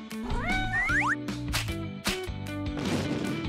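A cartoon cat meows and yowls in rising, wavering cries, loud and close, over a busy music and effects bed with a crash partway through.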